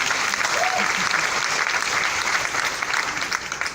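An audience applauds loudly and steadily, a dense wash of clapping that tapers slightly toward the end, with a faint voice mixed in.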